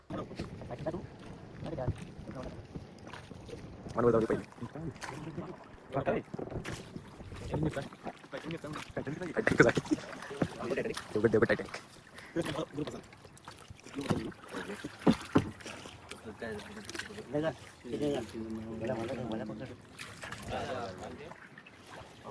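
A small boat on open water comes in to ferry gear out to a larger fishing boat on a trip toward Devgad, its engine and water noise steady under people talking, with some wind buffeting.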